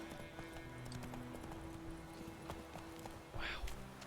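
Geralt's horse gallops in The Witcher 3: Wild Hunt, a steady rhythmic clip-clop of hooves under faint game music and ambience, ending in a brief louder snort or whinny.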